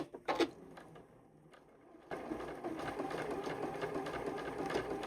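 A sewing machine stitches a fabric opening closed, with a few brief clicks and taps at first, then a steady, moderately loud mechanical whir of running stitches.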